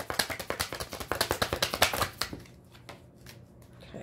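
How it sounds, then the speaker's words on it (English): Tarot cards are riffled and shuffled quickly up close for about two seconds, a rapid run of crisp slaps, then settling into quieter handling noises. "They're going to make me shuffle this one out."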